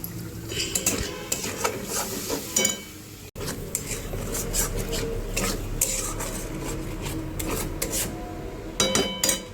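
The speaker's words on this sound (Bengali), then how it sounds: "মশলাটা একটু জল দেবো, দিয়ে কষবো।" A spice paste with chilli powder is sautéed in a pan, and a utensil scrapes and rubs against the metal in repeated close strokes. There is a low background hum, one brief dropout partway through, and a few clinks of utensils.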